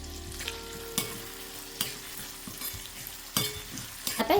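Salted onions fry in a pan for matki bhaji while a spoon stirs them, several scraping knocks breaking through a constant sizzle.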